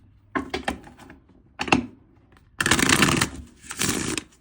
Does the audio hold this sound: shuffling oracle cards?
yes